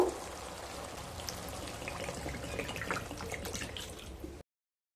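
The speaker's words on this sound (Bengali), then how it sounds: "এবার পরিমাণ মতো জল দিয়ে দেব।" Water poured into a pan of Katla Kalia fish curry, a continuous splashing, bubbling pour at moderate level lasting a few seconds before cutting off abruptly, no talk.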